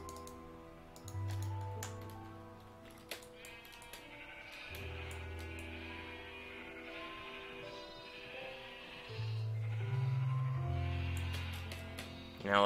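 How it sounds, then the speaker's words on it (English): Minecraft sheep bleat in the game, several short low baas scattered across the stretch, heard under quiet keyboard tapping and soft background music with no talking. "Let's just grab a whole bunch of sheep."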